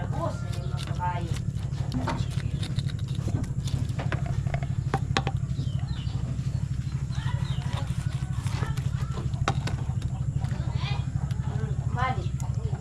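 Horses walk with a steady clip-clop of hooves near the Agusan Marsh, under a constant low engine-like hum, with people talking intermittently throughout.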